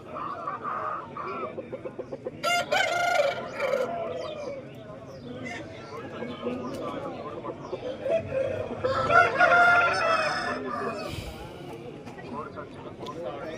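A heavy fighting rooster crows amid other crowing and clucking fowl at the Vijayawada rooster market, with people talking close by throughout.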